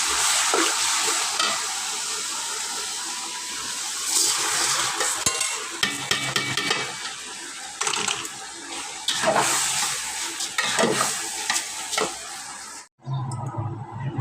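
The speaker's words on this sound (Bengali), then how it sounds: "চালের সাথে কাঁচামরিচ তেজপাতা গরম মশলা দিয়ে রাখছি চালটা ভেজে নিব" Rice frying with green chilli, bay leaf and garam masala for pulao crackles loudly and steadily, broken by repeated scraping stirs of a spatula against the pan.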